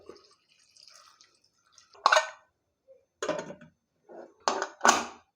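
Water goes into a pot of split moong dal seasoned with sambar powder, green chillies and salt, heard as several close, splashy bursts separated by short pauses.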